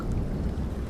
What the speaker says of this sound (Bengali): বৃষ্টি নামে